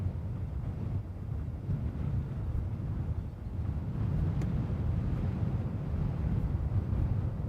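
Strong wind blowing across an airport, a continuous low roaring rumble of buffeting air that grows a little louder partway through, with no voices.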